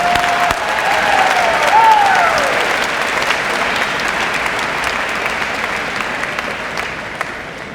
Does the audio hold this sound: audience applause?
yes